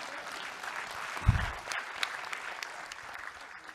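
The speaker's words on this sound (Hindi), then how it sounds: "इस पे जरा ढंग से ताली बजा दो यार" A seated crowd at a motivational talk breaks into a steady wash of applause, faint and distant, with one heavier thump near the start.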